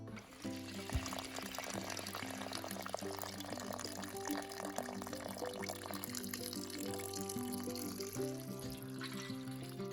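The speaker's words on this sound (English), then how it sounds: "when we need to drain it, we just pull the drain plug and all the liquid will come out the spout" Liquid from a pot of roadkill deer stew drains out of a spout after the drain plug is pulled, a quiet continuous pouring trickle lasting throughout with a low hum underneath.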